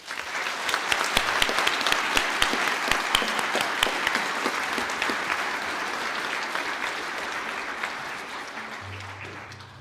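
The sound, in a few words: audience applause for graduates at ceremony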